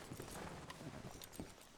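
Horses' hooves clip-clopping in Red Dead Redemption 2, a quick run of soft repeated hoof strikes on a dirt trail, faint and fairly distant beneath a low background wash.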